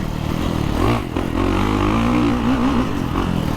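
A dirt bike rides over motocross jumps off throttle, its engine droning loud and close with pitch dips and wavering rises as the throttle comes on and off, mixed with wind and clatter.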